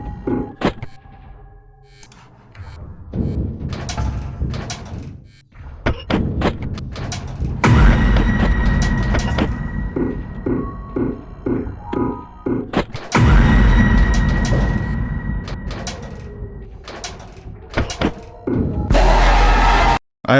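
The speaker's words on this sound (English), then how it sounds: "I opened the door for Bonnie." A door opens in Five Nights at Playtime Freddy's Remastered amid a string of heavy mechanical thumps, clanks and slams. Loud bursts alternate with humming stretches and short rhythmic knocking patterns.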